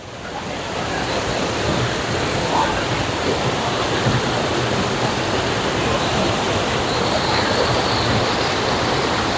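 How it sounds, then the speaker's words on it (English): Water rushing over a small waterfall at Wilson Dam: a steady, broad roar of falling water that holds at even loudness throughout, close by, with no talk. "This is the other little waterfall."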